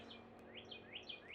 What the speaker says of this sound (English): The bird sounds so good.